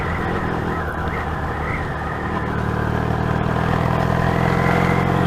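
A Yamaha XS650 motorcycle with a freshly fitted old clutch cable rides along, its engine droning steadily and loudly throughout, with a constant rumble and road noise and no voices.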